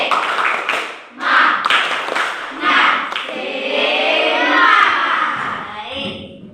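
A group of children claps in a quick rhythmic pattern, then their voices join in a lively chant that carries over the claps.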